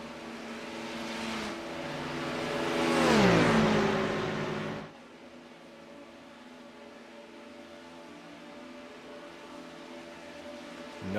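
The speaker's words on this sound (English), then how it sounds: "I don't think I like the sound of this car." A Porsche GT3 race car engine roars onboard at Talladega, climbing in pitch then dropping sharply as it shifts, before settling into a lower, steadier drone that runs on under faint wind noise.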